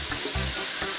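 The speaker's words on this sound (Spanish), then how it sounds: "Ya que se frió un poquito el jitomate, vamos a ponerle allí el orégano" Tomato fries in a pan as oregano is added and stirred, a brief, loud, steady sizzle with soft scraping underneath and no speech.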